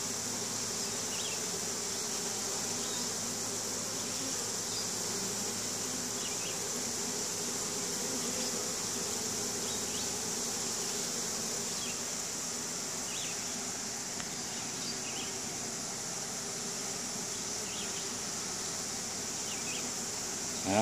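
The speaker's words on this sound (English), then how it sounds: "that's the easiest swarm retrieval we've ever done" Honeybee swarm being captured into a new hive, a dense continuous buzzing of many bees filling the scene outdoors, steady and close with no pauses.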